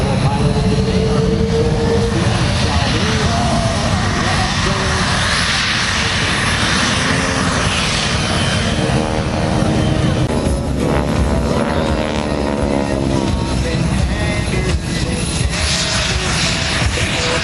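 Military aircraft fly in formation at the 2015 Melbourne, Florida air show, a loud, sustained engine roar with shifting whine and pitch sweeps as they pass, while an announcer speaks faintly beneath.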